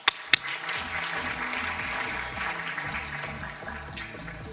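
Audience applause at the Africa Business Forum 2026 fills the hall as steady, dense clapping, preceded by two sharp isolated claps and continuing at an even level throughout.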